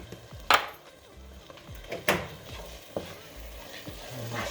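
Black pepper being mixed into seasoned taco meat for a cornbread casserole, with several distinct scrapes and clinks of a utensil against the pan over a low, moist stirring sound.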